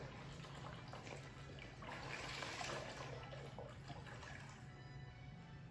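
Seltzer water from a supermarket bottle being poured, a steady fizzing, splashing stream that runs without a break for several seconds at a low, even level, with no talk.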